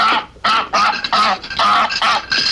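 A goose honks loudly and close by in a rapid series of about six harsh, nasal calls with short gaps between them.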